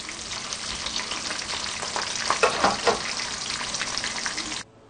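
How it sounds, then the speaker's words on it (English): Green chilies fry in hot oil in a pan with a dense, close sizzle, a few louder crackling pops near the middle, then the sound drops away abruptly at the end. "I will let it fry from one side, then I will add the rest of the ingredients."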